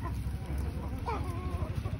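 Indian crossbreed hen giving soft, low clucks with a brief rising call near the middle, fairly close over a steady farmyard background hum.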